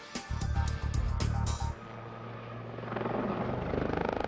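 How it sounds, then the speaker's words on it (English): A Lynx helicopter flies a loop, its rotor chopping loudly in rapid thumping beats that fade into a droning engine roar and then swell again as it comes back around. "their most tricky maneuver, turning a helicopter upside down."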